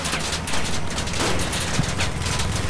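Dense, continuous burst of MG13 machine gun fire in the Crossout vehicle combat game, loud and sustained across the whole moment, with rapid overlapping shots and no talking.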